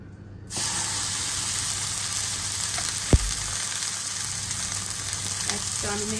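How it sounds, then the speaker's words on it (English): Beef drops into a hot, dry pan and starts to sizzle, then keeps up a steady frying hiss with one soft knock partway through. "Hot and dry pans. That's important to seal all the holes."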